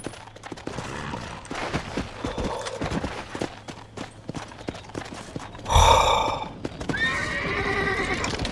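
A horse in the Red Dead Redemption video game whinnies loudly midway through, with clip-clopping hooves throughout and bursts of gunfire around it, all close and clear.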